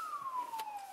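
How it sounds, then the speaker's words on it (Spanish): A police car siren gives one descending wailing sweep, moderately loud and alone for about a second. "sirena de policía"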